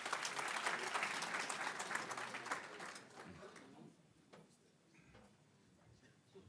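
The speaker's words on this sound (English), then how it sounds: "Mr. Kojana, shall we give him a round of applause?" Applause from a crowd rises loud at first, then thins and fades to scattered claps over several seconds.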